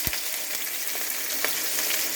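Onions and green chillies fry in hot oil, a close, steady sizzle with a few soft stirring clicks and pops.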